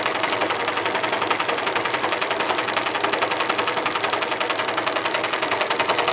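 A homemade Stirling engine built from drink cans runs steadily, giving off a fast, even mechanical whir and clatter that repeats without a break throughout, close up and fairly loud, with no voices.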